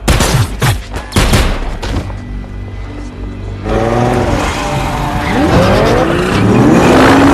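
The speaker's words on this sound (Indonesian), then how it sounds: "Menggunakan mobil Audi RS7 berwarna merah terang, mereka bertiga pun kabur dari kejaran John dan pasukannya." A bright red Audi RS7 flees a chase in an action film, engine roaring and tires screeching amid bursts of gunfire, loud and chaotic, with a short quieter stretch before the engine surges again.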